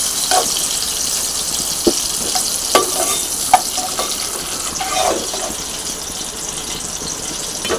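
Capsicum pieces frying in plenty of oil give a steady bright sizzle, with a few sharp spatters and clinks of stirring scattered through it; no voices.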